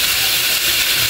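Vegetables dropped into hot oil with cumin seeds for egg noodles give a loud, steady hiss of sizzling that fills the whole moment without a break.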